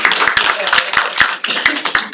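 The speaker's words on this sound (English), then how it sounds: "And I need to clap for that." A person claps a steady run of sharp, close hand claps at a public housing preservation trust board meeting, while someone speaks over them.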